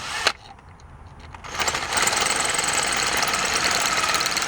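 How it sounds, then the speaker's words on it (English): A drill with a 1/4 inch bit bores out a broken-off bolt, starting at an angle beside a filler plug. After a sharp click, a steady, loud whirring grind builds and holds to the end. "Now we're going in with a 1/4 inch bit."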